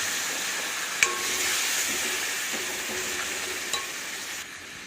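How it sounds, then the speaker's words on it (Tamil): Water boiling in a pan for elephant yam fry, a steady close hiss and bubbling sizzle with a couple of sharp clinks from a utensil. "தண்ணி நல்லா கொதிக்க ஆரம்பிச்சிச்சு."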